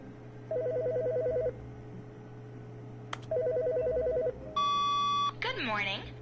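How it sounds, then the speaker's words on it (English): A telephone rings in The Stanley Parable, two repeated electronic trilling bursts in a quiet office hum, followed by a sharp beep tone and a brief synthesized chirp. "Bob, your phone's ringing"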